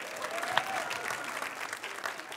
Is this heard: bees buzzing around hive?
no